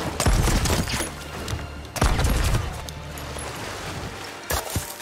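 Enemy gunfire from an island in Sea of Thieves: several loud, close bursts of shots come in clusters at the start, around the middle and near the end, over a steady ambient rumble.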